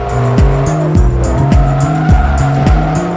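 Bugatti Veyron 16.4 in Forza Motorsport 3 with its 8-liter, 987-horsepower engine droning loudly and steadily while tires squeal in repeated skids, with no talking.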